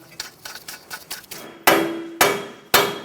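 Metal strikes ring out as a soft face hammer taps a bolt out of a Chevrolet Sonic steering knuckle: a quick run of light taps, then three heavier, resonant blows spaced about half a second apart.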